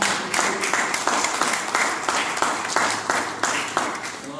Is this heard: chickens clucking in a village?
no